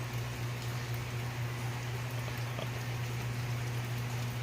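Steady rain falling in a continuous soft hiss in rural Cebu, Philippines, with a low constant hum underneath and no voices.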